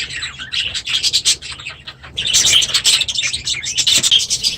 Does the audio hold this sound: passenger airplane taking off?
no